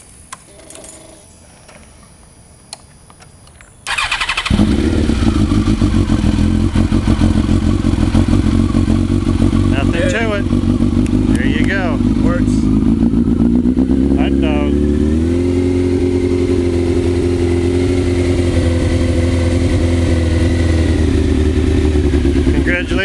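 A motorcycle engine running on a new 12-volt lithium battery cranks and fires after a few seconds of quiet, then idles loudly and steadily close by, blipped briefly once, while people talk over it.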